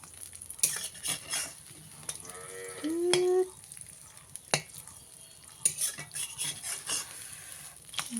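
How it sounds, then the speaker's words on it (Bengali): A spatula stirs and turns a sticky egg in a frying pan, with soft scraping and clinks at close range alongside a faint sizzle and a brief tonal squeak. "এবার এটাকে নেড়ে দেব, নেড়ে উল্টানো হবে এটাকে।"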